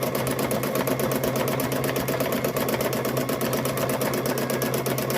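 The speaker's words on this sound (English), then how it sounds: "And then sew right off that edge" A sewing machine stitches quilt fabric with a fast, steady, evenly repeating mechanical chatter, heard up close and continuously with no talking.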